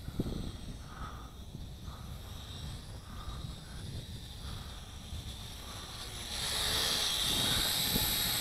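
An L6052 quadcopter drone flies outdoors on a slightly breezy morning at a lake, giving a faint steady rotor whine over wind rumble that swells louder near the end as it comes closer.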